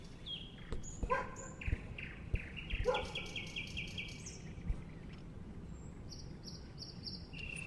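A dog barks a few times outdoors in a botanical garden, mixed with chirping birds and insects over a noisy, windy background.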